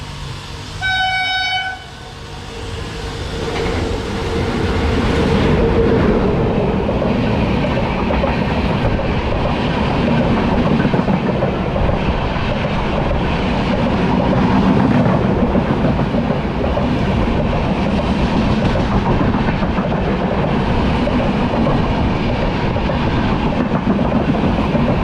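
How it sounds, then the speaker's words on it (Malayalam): A Thiruvananthapuram–Hazrat Nizamuddin superfast train passes at a crossing on the Konkan Railway: a short horn toot, then a loud, sustained rumble and clatter of coaches rolling by close for over twenty seconds. "ഒരു ക്രോസിംഗ് ഉണ്ട്, തിരുവനന്തപുരം ഹസ്രത്ത് നിസാമുദ്ദീൻ സൂപ്പർ ഫാസ്റ്റ്"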